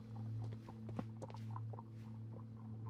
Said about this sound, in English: You can hear a horse outside.